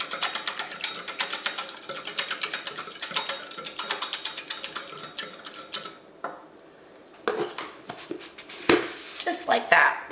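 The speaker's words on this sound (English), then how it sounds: "I'll use this cute little eggy weggy whisk, and we're just gonna make a slurry." Cornstarch slurry whisked with a small whisk, rapid rhythmic clicking taps close up for about six seconds, then a pause and a few scattered clinks.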